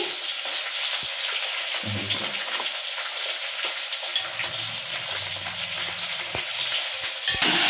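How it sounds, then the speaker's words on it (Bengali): Dense, steady sizzling of new potatoes frying in hot oil with spices fills the clip, with occasional stirring scrapes and crackles up close; no one speaks. "নতুন আলুগুলো ভালো করে ভেজে দিচ্ছি"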